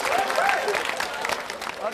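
Short burst of studio audience applause on an Indonesian television talk show, with voices heard over the clapping.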